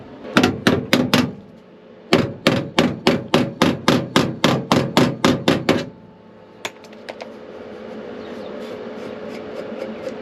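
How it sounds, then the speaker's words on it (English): A steel floor pan panel is hammered into shape during rust repair: a quick burst of about five loud metallic blows, a short pause, then a run of roughly a dozen evenly spaced strikes, followed by a quieter hum and one faint tap. "I'll start hammering in some shape there"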